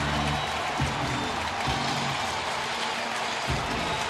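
Sellout crowd of over 35,000 at a baseball stadium roaring and applauding with the bases loaded as a batter heads to the on-deck circle, a steady dense wash of cheering with rumbling low thumps throughout.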